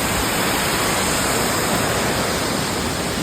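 Bedeng Tujuh waterfall roaring as a constant, dense hiss of falling water, loud and close, with no other sounds rising above it.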